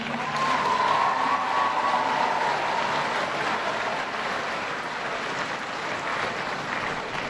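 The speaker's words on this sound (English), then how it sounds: "let's give a big round of applause to Principal Cressy" Sustained applause from a school audience at a state address in Buffalo, a steady broadband wash of clapping that holds loud and even throughout, with a faint tonal hum in the middle.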